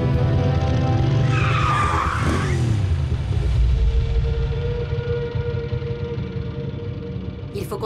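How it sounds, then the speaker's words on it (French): Animated Transformers robot vehicles skid loudly with a squealing tire sweep, then keep rumbling and driving along steadily, the engine drone fading slightly toward the end. "Le bruit de nos engins risque d'attirer quelques indésirables."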